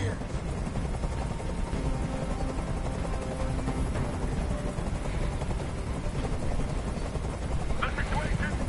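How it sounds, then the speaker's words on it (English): Helicopter in the Detroit: Become Human video game, a steady loud rotor drone filling the whole stretch, with game dialogue and other sounds layered over it. "I can't stand that noise anymore. Tell that helicopter to get out of here."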